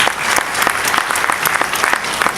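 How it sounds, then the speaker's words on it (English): An audience breaks into dense, continuous applause, close and loud, for a couple of seconds without a break. "And let's give a round of applause there."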